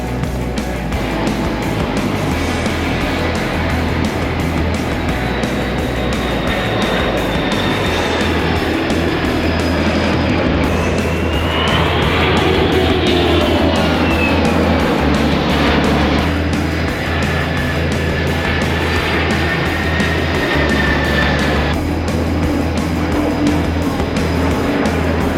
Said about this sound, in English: The flight of the heavies, the big C-17, C-5, KC something, the big ones.